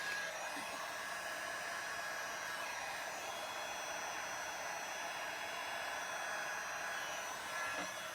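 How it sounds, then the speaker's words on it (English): A heat gun blows steadily over a resin Dutch pour, giving a constant, close, whooshing airflow with faint bumps and no speech. "What just fell out of my heat gun?"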